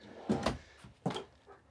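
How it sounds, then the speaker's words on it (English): A pull-out drawer in the bunk room of a 2022 Keystone Passport 3401 RV slides and knocks twice, a close pair of clattering bumps followed by a second, softer thump. "Another pull-out drawer here."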